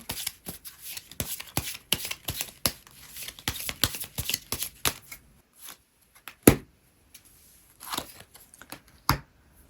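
Tarot cards being shuffled by hand, a run of quick papery riffles and slaps close up, thinning to a few isolated snaps and taps toward the end, with no talk.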